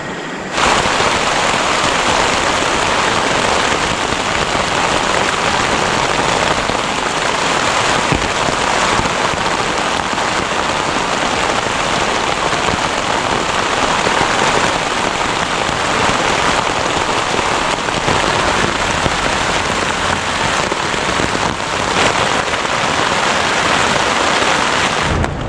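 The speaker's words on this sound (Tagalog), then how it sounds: "Maulan na umaga yung bumungad sa atin." Steady rain drums on a tent at a campsite in Infanta, Quezon, a dense, continuous hiss of drops close overhead that holds at an even, loud level throughout with no voices.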